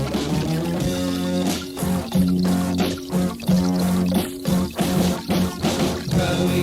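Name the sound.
sampled wet toilet paper plop played at pitch on Yamaha VSS-30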